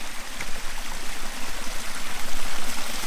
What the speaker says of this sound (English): This is water from the waterfall,